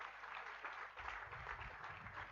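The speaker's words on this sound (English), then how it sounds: "Let's give him a round of applause." Faint audience applause at a school anniversary speech and prize-giving day ceremony, a steady low wash of clapping with some low rumble underneath.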